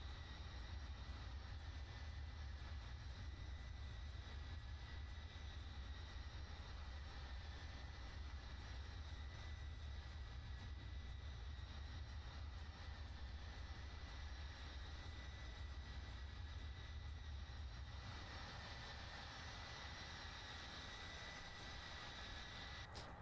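A C-17 Globemaster II cruising at speed in Microsoft Flight Simulator gives a steady, unbroken roar of aircraft engines, a dense hum with no talk over it.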